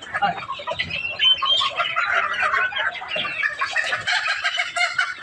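A crowd of mixed-breed chickens on a poultry farm clucks and squawks loudly and close, in a busy, overlapping chatter that never stops.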